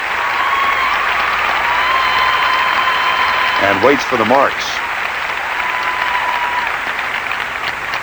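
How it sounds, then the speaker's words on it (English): A crowd in a Buffalo arena applauds a figure skater at 1990 Skate America, a steady, loud wash of clapping that fills the whole stretch while a commentator speaks briefly over it. "Midori Ito receives the applause of this crowd in Buffalo"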